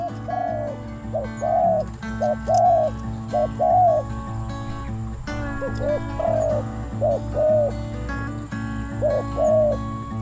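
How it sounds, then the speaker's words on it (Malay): A spotted dove decoy calls repeatedly in short cooing phrases, fairly close and clear, over a steady low hum of background noise. "Apabila pikat bersuara, burung liar akan mendekati kawasan tersebut untuk bersabung."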